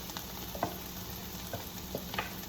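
Shrimp and broccoli stir-frying in a pan, a soft steady sizzle with a few light scrapes and taps as the pieces are mixed, faint and close.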